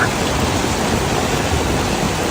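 Heavy rain falling during floods in Seoul, a dense, loud, steady hiss of downpour filling the whole clip with no break.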